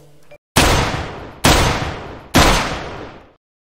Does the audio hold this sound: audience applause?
no